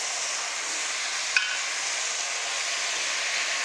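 Half a kilo of mutton mince fries with slightly browned onions in a pot, giving a steady, even hiss of sizzling with one small clink partway through and no talking.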